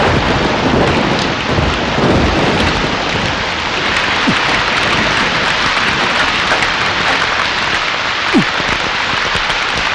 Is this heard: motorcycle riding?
no